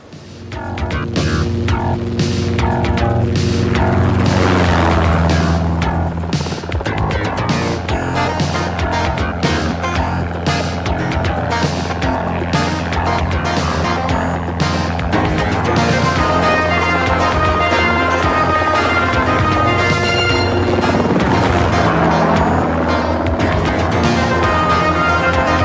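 Helicopter in flight, heard from inside the aircraft as a loud, continuous rotor and engine drone with a steady throbbing beat that persists throughout.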